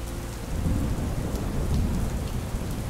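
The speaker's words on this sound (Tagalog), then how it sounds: "Pasado 9:00 ng umaga nang biglang lumakas ng husto ang ulan." Heavy rain pours in a steady, dense roar while a deep thunderstorm rumble swells underneath, continuous and loud with no voices.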